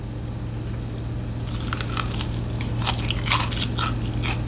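Crunchy bites into a fried bakwan vegetable fritter, several crisp crackling chews close up over a steady low hum, starting after a quiet opening.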